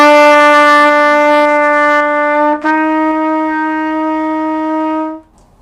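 A trumpet sustains a bright, clear tone on E, then slurs up to a held F with a brief articulation break at the change, ending cleanly after about five seconds.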